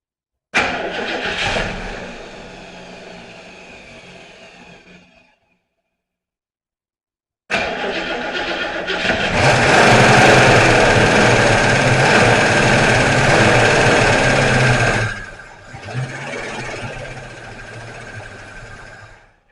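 A rebuilt Ford 289 V8 in a 1966 Mustang, fitted with electronic ignition, cranks briefly, pauses, then catches and roars into a loud, lumpy rev before dropping back toward a rough idle.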